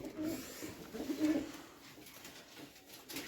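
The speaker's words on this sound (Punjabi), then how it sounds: "ਕਬੂਤਰੀ ਦੇਖੋ ਕਿੰਨੀ ਪਿਆਰੀ ਹੈ" Domestic pigeons kept by a hobbyist coo softly at close range, a few low, rolling calls over a quiet background.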